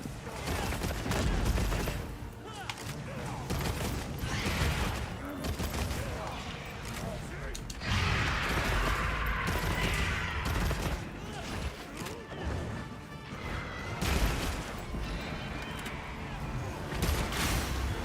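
Weapon shots in the action game Monster Hunter Wilds, repeated bursts of firing and impacts mixed with game music and effects, with a person talking over much of it.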